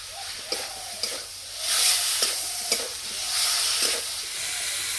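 Mustard paste and tomatoes frying in a wok, a steady broad sizzle with periodic scraping stir strokes and small clicks, close and fairly loud, no talk.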